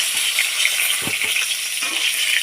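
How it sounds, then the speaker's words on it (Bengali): Pointed gourd slices fry in oil with a bright, continuous sizzle close by, punctuated by a few soft knocks of a spatula stirring the pan. "এভাবেই ভাজতে হবে"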